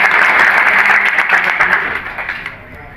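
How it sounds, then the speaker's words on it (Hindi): A crowd at a political rally claps loudly in a burst of applause that gradually thins and fades over a few seconds. "सबने हाथ खड़ा करा, मैं जोरदार ताली बजा।"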